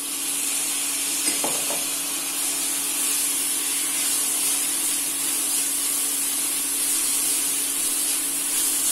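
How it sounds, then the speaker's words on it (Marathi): Fenugreek leaves and peas sizzle in a pan over a high flame, giving a steady, loud hiss that runs unbroken throughout, with one faint clink near the start and no talking. "मेथी परतल्यानंतर आता मटार टाकूया."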